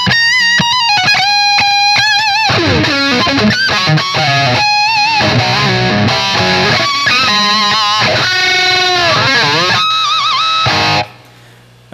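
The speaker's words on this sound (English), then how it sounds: "it'll either have kind of a traditional boost overdrive sound, or it'll get into sort of fuzz land." An electric guitar played through a Wampler Triple Wreck boost with the contour knob turned fully left sounds heavily distorted and high in gain, with fast riffs, bends and sustained notes running for about eleven seconds before stopping abruptly.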